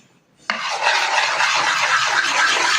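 Play-Doh being kneaded and mixed by hand starts abruptly after a short silence and becomes a steady, close, scratchy rubbing and squishing that continues without a break.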